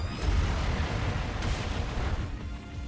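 Gunk Shot attack in Pokémon Omega Ruby gives a dense, noisy burst of rumbling impacts with a sharp crack partway through, fairly quiet and with no voices.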